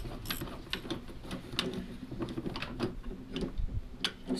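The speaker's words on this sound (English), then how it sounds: "Now it's just a case of undoing two 10mm bolts to hold it all in place." A ratchet wrench undoes two 10mm bolts on a Land Rover clutch, giving a close, continuous run of quick mechanical clicking that repeats in an uneven rhythm.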